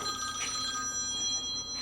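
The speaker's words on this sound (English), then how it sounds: "And the phone's ringing" A telephone rings in a workshop during 2002 Sea-Doo GTX DI repairs: a continuous electronic trill with bright steady tones and a couple of stronger pulses, faint and a little distant over a constant background hum, with no talk.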